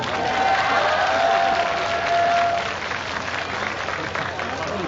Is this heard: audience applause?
yes